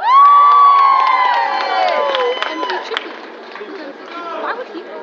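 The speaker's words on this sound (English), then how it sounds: "Can we all have a round of applause for Bilal Major Shah?" A crowd cheers loudly for a poet at an outdoor Free Palestine rally in Bradford, with shouts, whoops and scattered clapping close by that slowly subside into chatter.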